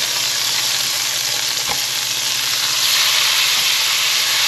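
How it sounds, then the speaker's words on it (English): Butter, lemon juice and garlic sizzle steadily in a hot pan, a continuous bright frying hiss that stays loud and even throughout with a faint low hum beneath and no talking. "Get that sizzle going."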